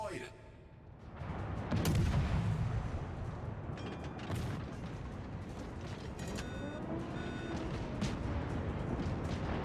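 Warship guns in World of Warships boom in heavy, overlapping bursts over a constant rumble of battle, with scattered blasts from near and far, and a voice speaks in places throughout.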